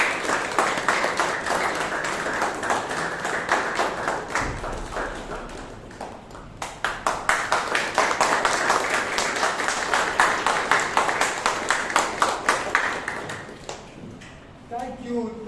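A room of people applauding at a Bangalore Toastmasters Club meeting, sustained rhythmic clapping that fades briefly, then swells again and runs on steadily for many seconds.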